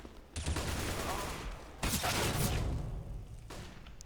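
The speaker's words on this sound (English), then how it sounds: "Flashbang. flashbang." Flashbang grenade bursting during a Counter-Strike: Global Offensive (CS:GO) match. Loud, sharp bangs with a harsh ringing wash hit at intervals over continuous rumbling game noise.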